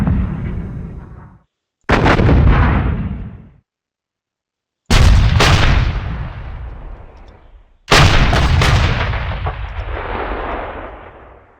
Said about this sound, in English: I'm going to soften it up with artillery